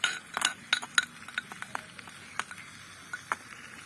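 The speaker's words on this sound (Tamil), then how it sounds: "நல்லா கிண்டுறோம்." A small spoon clinks and scrapes against a tiny cooking pot while food is stirred. Sharp, close taps come in uneven bursts, some bright metallic pings among softer scrapes, with no talking.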